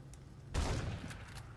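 Gunfire in The Suffering: Ties That Bind video game, a sudden loud burst kicking in partway through and holding as a dense, rumbling volley before easing slightly.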